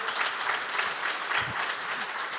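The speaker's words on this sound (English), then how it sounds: "I think that got more applause than even the tax policy announced earlier" Audience applause at a live conversation event with RFK Jr., a dense, steady burst of clapping from a large crowd heard alone, without talk.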